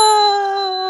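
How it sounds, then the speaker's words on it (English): A single bell rings once with a clear metallic strike and a bright ringing tone that slowly fades. "And I want to ring the bell for you and Jim."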